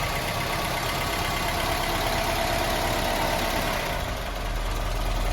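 A Mercedes-Benz W with a manual gearbox idles close by, its engine giving a steady, even hum with a faint mechanical tick and no voices.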